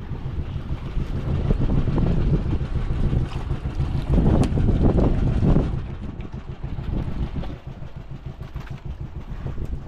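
A boat moving on open water with heavy wind buffeting the microphone and a steady engine rumble, loud and close throughout.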